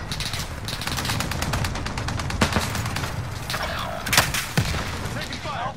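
Gunfire in the shooter game Warzone Payload: dense, rapid automatic bursts rattle almost continuously, with a few heavier impacts and booms mixed in, all under radio-style voice callouts.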